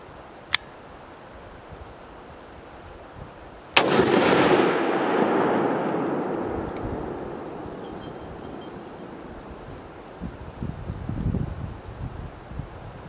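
A single loud Keltec RFB 18-inch rifle shot rings out outdoors, preceded by a faint sharp click and followed by a long decaying echo and wind noise.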